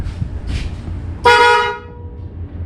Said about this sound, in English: Yeah, they work. Horn works.